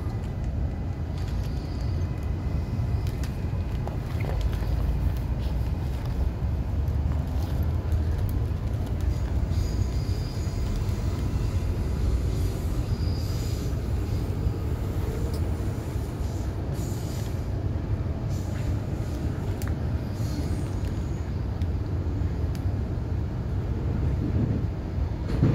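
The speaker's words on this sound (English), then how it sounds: "This is a Redcliffe Peninsula train, running express from Bowen Hills to Northgate, stopping only at Eagle Junction." A Redcliffe Peninsula commuter train runs express between Bowen Hills and Northgate, heard from inside as a steady rumbling ride with faint wheel squeals and rattles throughout.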